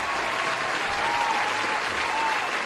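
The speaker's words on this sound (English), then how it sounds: "Give him a round of applause, everybody." A crowd gives a round of applause, dense steady clapping throughout at fairly close range with a faint voice underneath.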